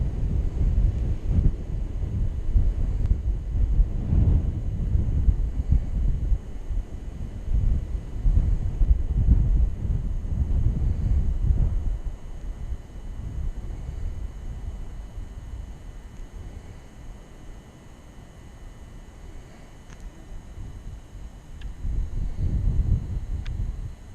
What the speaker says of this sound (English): Oh, I got the wind in my back big time.